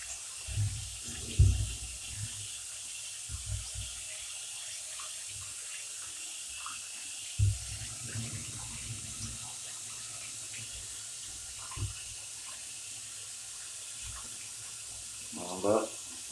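Rinse water runs steadily through a car radiator being flushed clean, a continuous wash of flow with occasional louder splashes and a brief voice over it.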